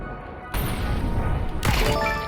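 Mag-7 shotgun from CS2 firing, a sudden loud blast followed by a second heavy report and ringing metallic tail, close and dense.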